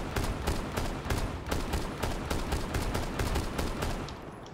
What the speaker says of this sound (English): every single one of us is currently busy taking pot shots at the...